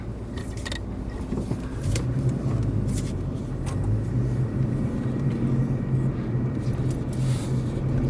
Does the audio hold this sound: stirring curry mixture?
no